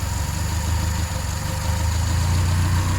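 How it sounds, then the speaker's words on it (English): A steady mechanical hum from the cold idling engine of a modified classic Standard 8 car, with a low continuous drone and the old fuel pump's faint whirring running evenly throughout, close by. "You can hear that. That's the old fuel pump."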